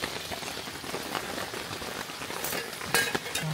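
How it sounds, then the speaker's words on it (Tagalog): Steady rain patters outside a limestone cave campsite during a rainy motocamping trip, a dense continuous hiss of drops on surfaces with a slightly louder burst near the end, no talking. "Umuulan pa rin sa labas."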